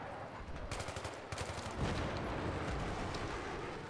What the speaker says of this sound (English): I think I'm being shot at by a tank.